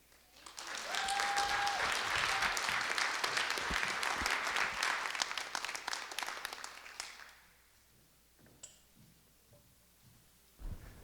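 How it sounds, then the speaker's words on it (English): A conference crowd gives Kate Northrup a big round of applause that rises quickly, stays full and loud for several seconds, then fades away, leaving scattered faint claps and small noises. "Let's give Kate one more big round of applause."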